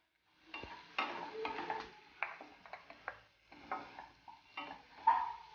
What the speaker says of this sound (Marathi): याच्यात मी तिळाचं कूट आहे ते टाकत आहे तेलामध्ये, आणि हे छानपैकी थोडंसं तेलामध्ये भाजून घेऊ आपण तिळाचं कूट